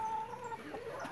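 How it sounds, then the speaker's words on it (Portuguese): Chickens clucking in a rural farmyard on a Brazilian smallholding, a steady run of close, moderately loud hen calls with no talk over them. "E as galinhas se divertem, ó."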